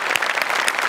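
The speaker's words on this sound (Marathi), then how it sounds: "जोरदार टाळ्या यांच्यासाठी." Audience applause for performers at a Marathi comedy show, a brief, dense burst of many hands clapping, fairly loud and continuous.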